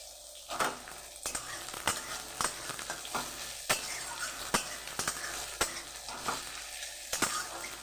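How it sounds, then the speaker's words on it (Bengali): Onions frying in mustard oil in a pan for a Bengali fish-oil dish, a steady close sizzle broken by repeated sharp scrapes and clacks of a stirring spatula. "পেঁয়াজটাকে আমি ভেজে নেব একটু হালকা করে"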